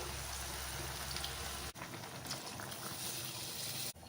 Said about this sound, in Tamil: காய் வேகிறதுக்கு தேவையான அளவு தண்ணி சேர்த்துக்கலாம்